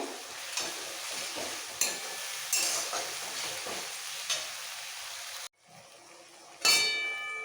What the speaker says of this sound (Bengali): এবার মশলাগুলো একটু কষিয়ে নেব